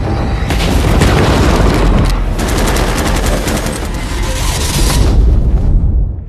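Gunfire strikes the wyvern Rathalos in the Monster Hunter video game: a dense, loud volley of rapid shots and booming impacts rattling on for several seconds before cutting off abruptly.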